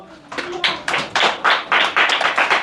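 Children in a classroom clapping their hands, a run of about eight sharp, fairly loud claps in a brisk, slightly uneven rhythm, close by, with no talking over them.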